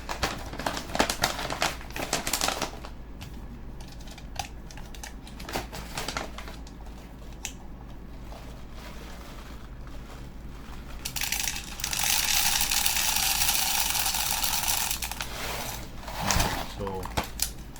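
A high-capacity 300-round airsoft magazine is wound to feed BBs, giving a close ratcheting, clicking rattle in bursts followed by a longer brighter whirring stretch, with someone talking over parts of it.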